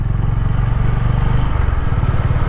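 A Honda H'ness motorcycle rides slowly along a narrow road, its close engine giving a loud, even, throbbing thump for a few seconds without talk.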